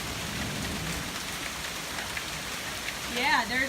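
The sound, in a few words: hail falling during a thunderstorm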